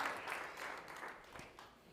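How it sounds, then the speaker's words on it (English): An audience in a talk or seminar hall applauds with a steady, fairly faint wash of clapping that fades slightly toward the end. "We could do better with our clapping. I like loud clapping."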